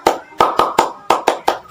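Sharp hand claps in a quick rhythmic pattern, about eight crisp slaps in bursts of two and three, close and loud, performed as a counting clap routine in a children's Qur'an lesson.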